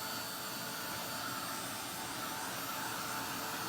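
A heat tool blasts air across a journal page to dry it, giving a continuous, close, even roar with no breaks for nearly four seconds.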